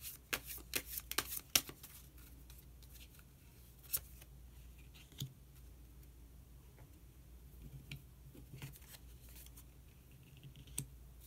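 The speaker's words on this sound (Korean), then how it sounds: "그러면은 카드 한 장을 더 뽑고 이야기 계속 나오도록 하겠습니다." Tarot cards being shuffled and drawn, a quick flurry of crisp riffling and snapping at the start, then sparse, scattered card flicks and soft handling noises, close and fairly quiet with no voice.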